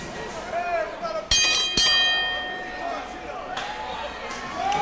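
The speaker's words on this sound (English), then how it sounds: "All right, bell sounds. This one is underway" A bell rings sharply a couple of times to start a tag team wrestling match, clear and metallic, cutting through a commentator talking over crowd noise.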